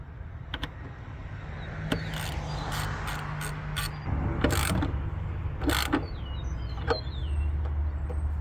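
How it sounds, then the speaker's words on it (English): A nut being tightened on a pillar light bracket on a Jeep WJ, with a series of quick ratcheting clicks and metallic bursts against a low hum, close by and with no talk. "Get it started by hand and tighten it down."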